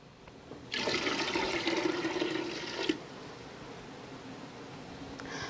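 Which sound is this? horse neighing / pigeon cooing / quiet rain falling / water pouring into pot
water pouring into pot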